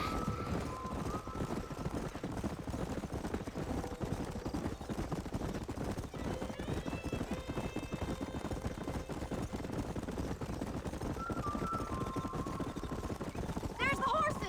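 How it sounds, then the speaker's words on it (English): Horses galloping in the western video game Red Dead Redemption, a steady rapid clip-clop of hooves running continuously through the scene beneath game music, with voices talking over it. "There's the horses!"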